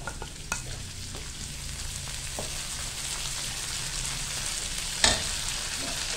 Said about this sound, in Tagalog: Ayan, palisawin lang po natin ang ating kamatis.